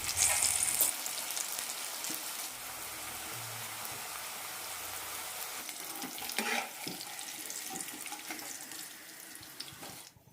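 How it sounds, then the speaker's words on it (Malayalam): Raw banana pieces frying in oil for a vegetarian curry, a steady close hiss of hot oil with scattered pops and a brief rush like running water at the start, with no talk. "ബാക്കി പീസസ് കൂടി വറുത്തെടുക്കാം"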